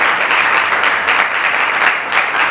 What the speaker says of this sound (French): je vous prie également d'accueillir avec vos applaudissements féminins